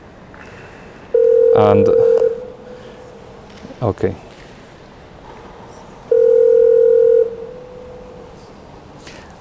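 Phone call audio: two long, steady electronic tones sound clearly through a handset, separated by a pause with a brief spoken word and a short click.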